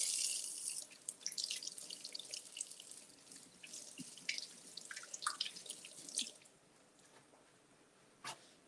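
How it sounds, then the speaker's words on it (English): Water from a kitchen tap runs and splashes as a tomato is rinsed under it, faint and wet with small drips and squelches, tapering off to near quiet with one last splash at the end. "So let me just get a tomato here and give this a nice little wash."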